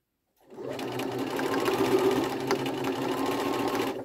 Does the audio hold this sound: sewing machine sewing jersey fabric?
yes